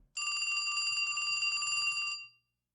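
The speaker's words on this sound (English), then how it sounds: "the last one is the phone ring" A telephone ring sound effect plays back through a Venue 7 system: one continuous electronic bell trill lasting about two seconds, bright and steady, then cutting off into silence.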